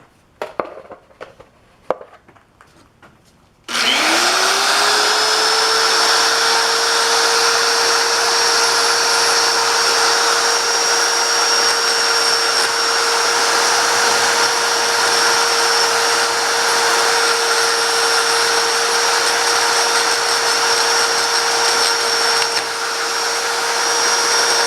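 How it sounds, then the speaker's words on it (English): A die grinder runs steadily at high speed to knock rough edges off a large cut steel washer, a loud continuous whine with a fixed pitch after a few short clicks at the start, close and uninterrupted. "knock off the little scrappy stuff that's kind of pulled back while we were cutting it. And we will do that with the die grinder."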